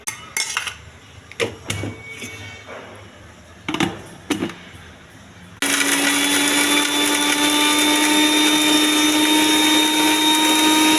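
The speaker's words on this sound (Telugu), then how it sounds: "మిక్సీ వేసుకోవాలి." A few knocks and clatters of a jar being set up, then a kitchen mixer grinder starts, blending coconut, green chillies, salt, jaggery and mint for chutney with a loud, steady, high whirring roar close by.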